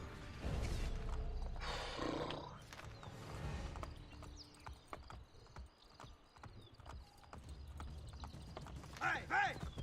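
A horse gallops in the video game Assassin's Creed: Brotherhood, its hooves clip-clopping in fast, uneven bursts alongside in-game clatter, with people talking throughout.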